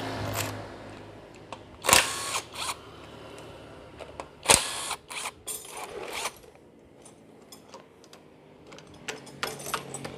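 Metal tools clicking and clattering against bolts on the timing gear cover of a Toyota Fortuner VNT engine, a scatter of sharp close knocks and ratchety clicks spread unevenly over quiet workshop background.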